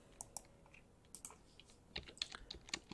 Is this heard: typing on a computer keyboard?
yes